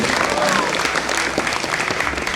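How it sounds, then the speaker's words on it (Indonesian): Applause for an eleventh-grade TBSMB class at a vocational school's final project handover ceremony, steady dense clapping from a large crowd, sustained throughout without a break. "Tepuk tangan untuk TBSMB"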